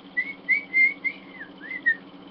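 Someone whistles a short, wavering tune of sustained notes and slides, with brief pauses between phrases, heard close and alone over a faint steady hum from a webcam recording.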